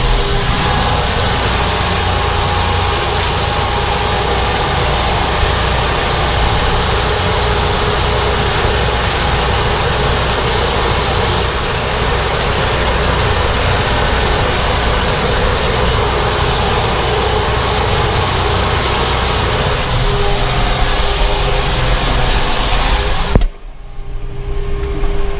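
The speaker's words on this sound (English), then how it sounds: "this mower, it is so quiet, you basically just hear the whir of those blades going around and a tiny bit of bearing noise" A hay mower runs steadily with a smooth, continuous whir of spinning blades and a faint bearing hum, loud and close, with no talk, before it cuts off abruptly near the end.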